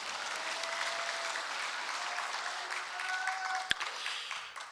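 Congregation clapping at a church prayer-retreat service, a steady sustained round of applause with faint sung or held tones weaving through it, one sharp knock near the end, then fading out.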